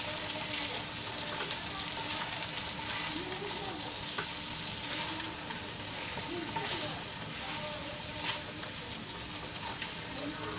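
Sabudana khichdi with salt and peanuts stirred in a hot pan, a dense continuous sizzle with soft mixing scrapes, close and steady.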